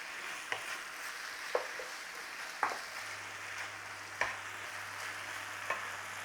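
A spoon stirs flour into beef and mushroom stout pie filling sizzling in a pan, with steady frying hiss and a sharp scrape or tap every second or so.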